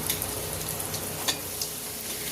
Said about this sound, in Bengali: এই ফোড়নটা একটু ভাজা ভাজা করে নেব।